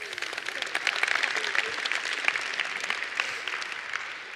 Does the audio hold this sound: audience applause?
yes